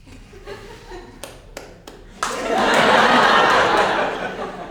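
At a stand-up comedy show, a few scattered claps come first. Then a comedy club audience bursts into loud, sustained applause mixed with laughter, filling the room for the last couple of seconds.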